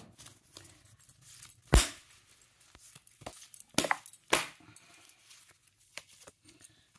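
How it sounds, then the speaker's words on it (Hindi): Tarot card deck being shuffled by hand, giving a few sharp riffling snaps and soft card slaps with quiet gaps between them, close up. "तो मैं आपके सामने ये शफल कर रही हूँ"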